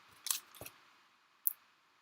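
Scissors snip paper during scrapbook work on a travel mini album, giving two or three short crisp cuts spaced about a second apart, close and fairly quiet with no talking.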